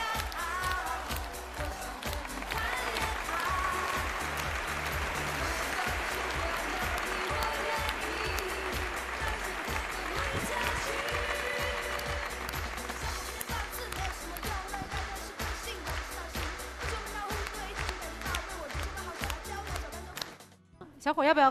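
A studio audience at a televised dating show claps in a sustained wave of applause that carries on beneath a host's amplified voice and background music.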